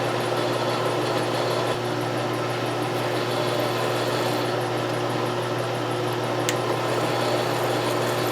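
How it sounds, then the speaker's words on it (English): An electric drill bores a hole through the bent sheet-metal frame of a homemade model steam engine, giving a steady, continuous motor whir and grinding noise that runs unbroken from start to finish. "Okay, I'm drilling the other side."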